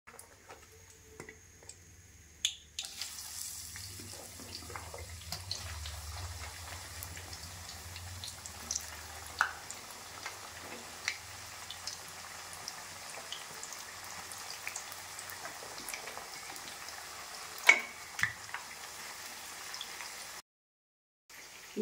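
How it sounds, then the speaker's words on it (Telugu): Bitter gourd pieces frying in hot oil for a pickle, a steady soft crackle with scattered pops and ticks running for about twenty seconds at low level, no talk. "ఇప్పుడు వచ్చేసి మిగతా ముక్కలను కూడా అలాగే ఫ్రై చేసుకోవాలండి"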